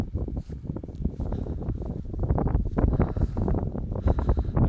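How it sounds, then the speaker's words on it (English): Gusty wind blows outdoors beside an old 1885 schoolhouse, buffeting the microphone in a continuous rough roar that swells and eases without any voices. "I'm sure it's pretty windy."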